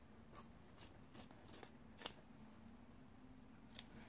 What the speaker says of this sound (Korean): 이렇게 가위집을 주도록 하겠습니다